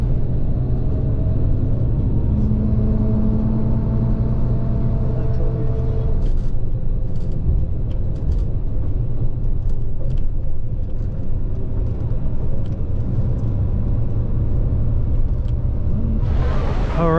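A bus rides through Baku, Azerbaijan, with a constant low interior rumble of engine and road noise, steady and fairly loud throughout, ending with a sharp hiss like air brakes.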